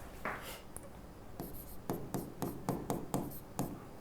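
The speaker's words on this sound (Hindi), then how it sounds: "यहां लिखता हूं" Marker or chalk writing on a board during an organic chemistry lesson, a series of quick scratchy strokes in irregular rhythm, close and fairly faint, with no talk.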